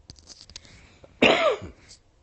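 A single harsh cough, close and loud, after a few faint clicks and rustles, then quiet.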